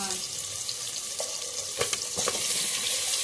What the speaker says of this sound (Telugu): ఇప్పుడు ఆయిల్ వేసుకున్నాం కదా ఆయిల్ అయితే ఇప్పుడు ఆనపకాయ ముక్కలు వేస్తున్నాను